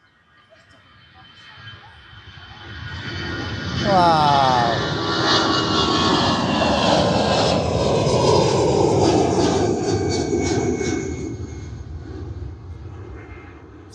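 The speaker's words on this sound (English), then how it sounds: "Plane taking off here by the looks of it." A fixed-wing airliner takes off at Manchester Airport, heard from the visitor park: a roar swells from about two seconds, stays loud and broad for several seconds, then slowly recedes. A single short voice exclamation comes during the climb.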